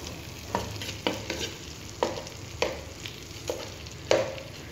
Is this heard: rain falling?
no